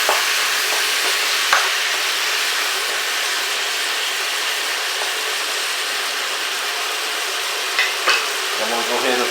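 Meat sizzles loudly and steadily in a hot pan, a dense continuous hiss with occasional pops and a brief scrape near the end.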